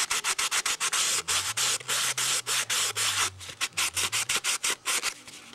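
Hand sanding with 80 grit sandpaper roughens a glue edge on wood in quick, rhythmic, close scratchy strokes that repeat steadily with short pauses, and no one talks.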